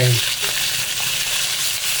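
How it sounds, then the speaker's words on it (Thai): Sliced nham, Thai fermented pork, stir-fried with garlic in a hot pan, a dense continuous sizzle with scraping stir sounds throughout, loud and close. "แล้วก็จะผัดให้"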